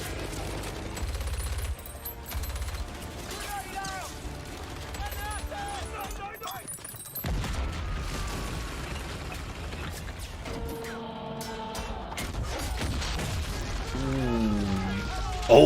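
Machine gun fire and battle in Company of Heroes 3, with bursts of gunfire and rumbling explosions under continuous excited talk.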